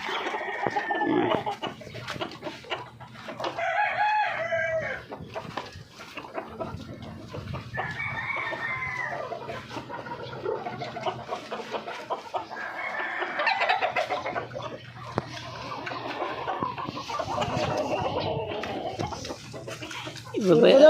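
Chickens cluck busily at feeding time close by, with roosters crowing repeatedly over the flock while someone talks among them throughout.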